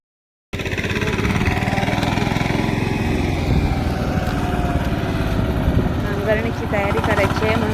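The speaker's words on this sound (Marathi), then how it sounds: "ट्रॅक्टर" A tractor engine runs steadily on a farm, a loud, close, continuous low chugging drone that starts abruptly and holds without pause.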